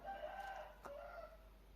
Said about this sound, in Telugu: ఇది భీమవరం బ్రీడ్కి సంబంధించినటువంటి కోడిపుంజు అంట